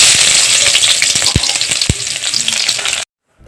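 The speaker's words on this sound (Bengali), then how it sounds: "তেলটা গরম করে নিয়ে আমি তেলের মধ্যে দিয়ে দেব মাঝারি সাইজের 2টা পেঁয়াজ কুচি" Chopped onions, two medium ones, sizzle loudly in hot soybean oil in a wok, a steady dense frying hiss broken by a couple of sharp low knocks, then cutting off abruptly into silence.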